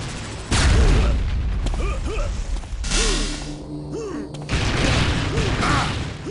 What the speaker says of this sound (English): Rockets coming down from Reflex